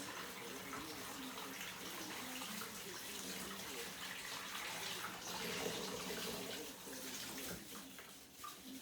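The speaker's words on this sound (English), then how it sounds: "So let the cold water run over it." Cold water streams steadily from a tap over thawing frozen food, a constant close splashing rush that holds through the whole stretch.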